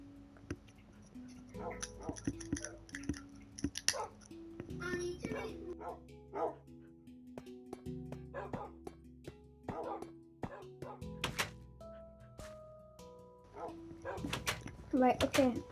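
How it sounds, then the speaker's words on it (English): Several dogs bark and yip repeatedly inside a dog house in the video game Minecraft, scattered through a busy game soundscape, while people talk throughout. "Yeah, this is where all the dogs are."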